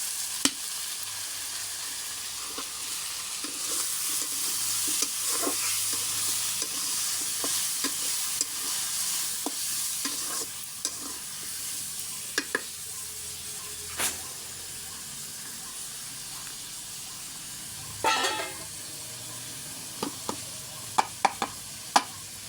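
Chicken pieces frying in a pan with ground spice paste give off a steady, moderately loud sizzle and hiss, with occasional utensil clicks and scrapes and no talking.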